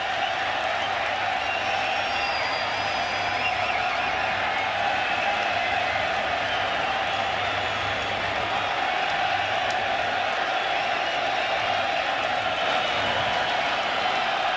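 A large stadium crowd at a soccer match, the opening of a new stadium, keeps up sustained applause and cheering, a dense, loud, continuous roar with no pauses.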